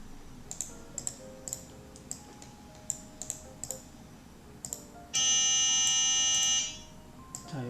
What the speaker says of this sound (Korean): 이렇게 도레미를 소리를 내고요